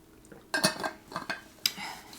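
Glassware and dishes clink and clatter nearby while a drink of lemon iced tea is poured and handled, several sharp bright knocks spaced irregularly over a quiet background, with no talking.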